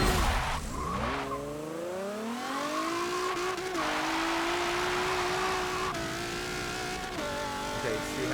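A front-wheel-drive car launches hard in Forza Motorsport, tires screeching in wheelspin as the engine revs climb through first gear, the squeal sustained and loud over the rising engine tone, with a brief shift and renewed revving.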